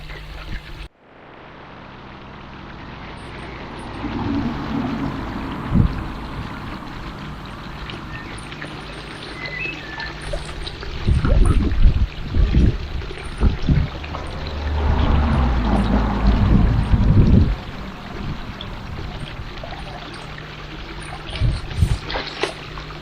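A koi is poured from a bag into pond water, with sloshing pours and splashes that swell and fade in several bursts over a steady outdoor background, and no one speaks.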